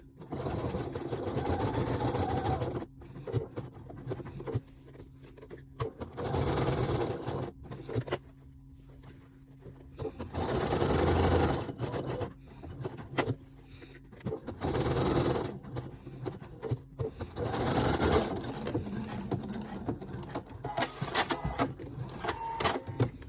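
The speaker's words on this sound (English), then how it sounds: "usually I sew this on with a zigzag stitch, so I've just set my machine to zigzag" A home sewing machine stitches a zigzag seam through fabric, running in loud steady bursts with brief pauses between runs, alone and close.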